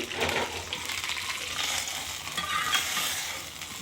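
Hot tempering sizzles and crackles steadily in oil in a home kitchen while sambar is being made, a dense, close frying hiss lasting several seconds with no talk.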